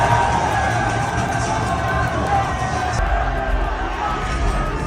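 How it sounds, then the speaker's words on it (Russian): An MMA crowd roars and cheers for fighter Magomed Zainukov's entrance: a dense, loud, continuous wall of shouting and whooping that barely dips midway. "Вы только послушайте, как его встречала толпа."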